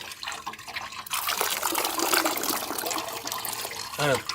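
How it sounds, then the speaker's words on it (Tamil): Water poured over curdled milk to rinse homemade paneer in a village kitchen, a steady splashing pour that swells loud midway and runs continuously, with a brief voice near the end. "தண்ணி நல்லா வடியா ஊற்றிருக்கோம்"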